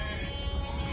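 Sheep bleating at a livestock market in Kyzylorda, with a steady bleat held over a noisy crowded yard.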